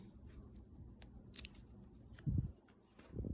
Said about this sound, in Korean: 먼저 한 장씩 잘라주세요